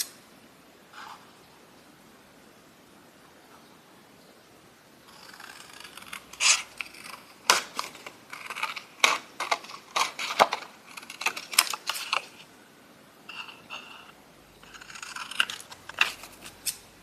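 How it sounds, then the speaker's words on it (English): Scissors snip through a paper tag for a Christmas card craft page, a quiet stretch followed by a run of crisp, irregular cuts and rustles close by. "Now I just need scissors."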